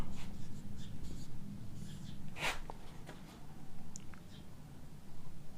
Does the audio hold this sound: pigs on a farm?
no